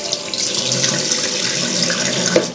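Water runs steadily from a sink tap while skincare is washed off with bar soap, a close, continuous splashing gush with no pauses.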